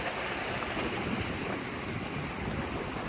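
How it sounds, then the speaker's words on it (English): Rough waves slosh and slap against a rocking dock under a passing weather front, a steady loud broadband wash with wind buffeting the microphone throughout. "Oh, this dock is a rockin'. Don't come walking. We got some rogue waves."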